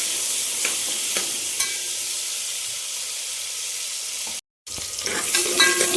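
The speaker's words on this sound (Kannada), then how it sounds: "ಇದನ್ನ ಚೆನ್ನಾಗಿ ಫ್ರೈ ಮಾಡ್ಕೋಬೇಕು." Finely chopped onions fry in a pan as fenugreek rice is cooked, giving a steady close sizzle with occasional stirring scrapes and a brief dropout near the end.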